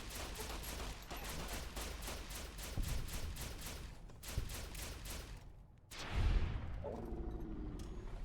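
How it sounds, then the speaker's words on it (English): Energy weapon gunfire in Fallout: New Vegas, rapid repeated bursts of shots in quick succession, a pause, then a heavy impact followed by more steady firing, loud and dense with no talking. "We start taking pop shots at their leader. And then we have to deal with their whole posse."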